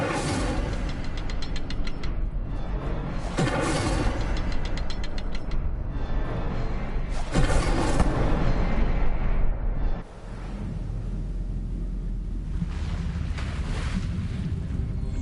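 The Incendio fire spell cast in Hogwarts Legacy on PS5: several roaring, whooshing flame bursts in quick succession over a steady rumbling background, then dropping to a quieter hiss.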